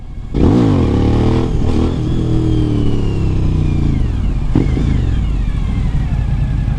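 A Suzuki V-Strom 1000 motorcycle engine revs hard and close during a wheelie, rising and falling in pitch with a sharp throttle blip near the end, loud and continuous with no talk.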